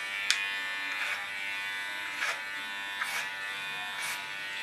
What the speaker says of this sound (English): starting on the shorter side, working with the clipper.